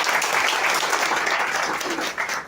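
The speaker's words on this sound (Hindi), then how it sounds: "हम चाहेंगे हमारी कंपनी के लिए एक बार जोरदार ताली मारिए।" An indoor audience at a company presentation for Maxxwell Herbal breaks into loud, dense applause, many hands clapping continuously at close range.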